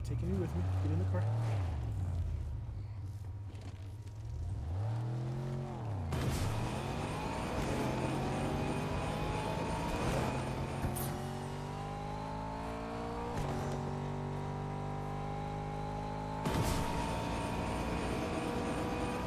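A car drives in a video game, a steady engine drone with repeated rising revs as gears climb, heard throughout alongside layered game sounds.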